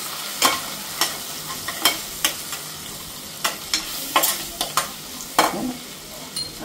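Spices with turmeric being stir-fried in a pan: a steady close sizzle broken by a dozen or so sharp spatula scrapes and taps at an uneven rhythm, with no talking.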